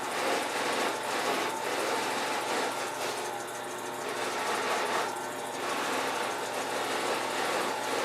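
A buffing wheel polishing a turned wooden loom pulley with Tripoli and white diamond compound, a continuous high whining motor hum with slight fluctuations as the piece is pressed to the wheel, steady and close throughout.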